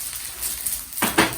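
A green bowl is handled in a kitchen while a locust bibimbap is prepared, giving a couple of quick close ceramic knocks and clatters after a near-quiet stretch.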